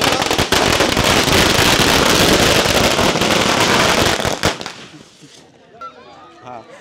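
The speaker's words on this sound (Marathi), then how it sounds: "आताच फटाक्याने आमच्या गणपती बाप्पाच्या आगमनासाठी सुरुवात केलेली आहे" Firecrackers burst for a village Ganpati arrival procession: a dense, loud, continuous crackling barrage for about four and a half seconds, then it cuts off, leaving faint scattered pops and quiet background sound.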